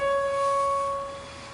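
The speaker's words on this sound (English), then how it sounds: "this is the sound of the OH stretch translated into the audible range" Vibration of an O–H bond stretch converted into an audible tone: a clean, steady electronic hum with a few faint overtones that holds, then softens toward the end, heard alone.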